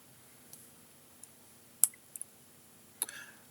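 Computer mouse clicks on a laptop, a few sparse, sharp little clicks spread over a quiet background, close and faint.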